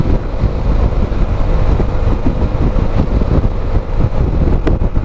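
A Honda ADV 160 scooter carries a passenger uphill at full throttle, its steady engine drone partly buried under strong, constant wind rumble against the microphone.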